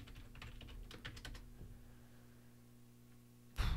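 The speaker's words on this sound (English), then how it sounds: "Type in the password." A password is typed on a computer keyboard as a quick run of close, light key clicks that fade into a low room hum, ending with a louder thump.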